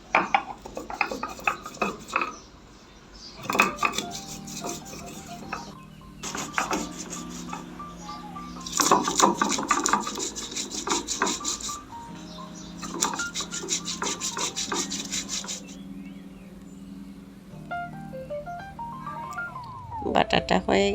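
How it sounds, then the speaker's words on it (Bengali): Ginger, fennel seeds, green chillies and peppercorns are ground into paste on a stone, giving repeated rasping, rubbing strokes in bursts with short pauses and occasional clinks, close and alone. "এখন ভালো করে বেটে নেব।"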